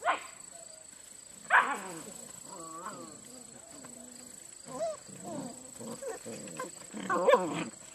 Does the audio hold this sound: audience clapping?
no